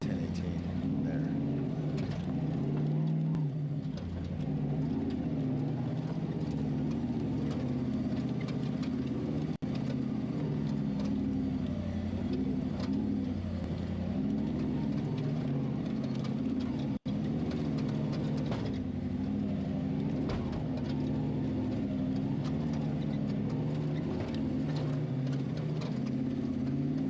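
An off-road race car engine at King of the Hammers holds a steady mid-pitched drone for a long stretch, heard at moderate distance alongside talk, with a few faint clicks.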